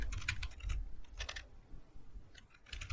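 Keys tapped on a computer keyboard while entering MongoDB code, a few soft clustered clicks separated by short pauses, close and quiet with no speech.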